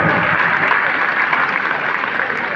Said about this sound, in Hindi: जोरदार तालियां बजाएंगे बच्चों